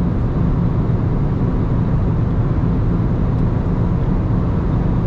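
Alfa Romeo MiTo driven flat out at top speed with the pedal floored, a constant loud cabin roar of engine, wind and road noise with no voices.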